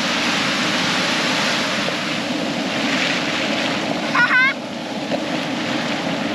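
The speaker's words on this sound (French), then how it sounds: "Il y a des grosses vagues." Surf rolls onto a beach in Da Nang, Vietnam as a continuous broad wash of breaking waves, with wind buffeting the microphone and a brief high chirp partway through.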